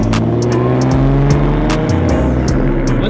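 A stock car drives hard, its engine loud and close with rising and falling revs, gear changes and brief tire noise, a continuous roar with no voices.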